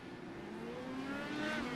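An IndyCar race car in iRacing accelerates hard out of a corner with a steady, rising engine whine that climbs in pitch, heard mid-distance against a continuous broad background roar.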